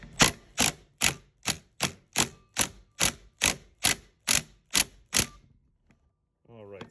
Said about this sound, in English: try to slowly back this out so that I can keep all the barbells and this reverse threaded nut all assembled